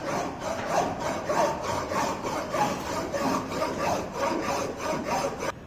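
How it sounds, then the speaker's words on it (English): Hand filing a metal workpiece edge square to a right angle in a fitting job, steady rhythmic rasping strokes back and forth at close range, stopping abruptly at the end. "here we'll do the small filing over there so that it should be exactly in right angle"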